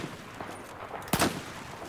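A single sharp sniper shot fired while quickscoping in Battlefield 4, a crisp loud crack near the end of a quiet stretch of faint game ambience.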